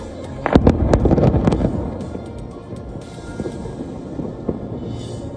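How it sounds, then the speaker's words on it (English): A series of near-simultaneous explosions as the military demolishes several buildings in the West Bank, with a heavy burst of booms and crackling blasts in the first seconds, then a rumbling tail of debris and echoes. "The Israeli military blows up several buildings in the West Bank in a series of simultaneous explosions."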